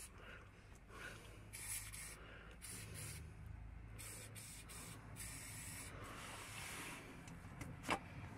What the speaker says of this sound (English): Now I spray the rust remover on the three bolts and let it act for about 15 minutes.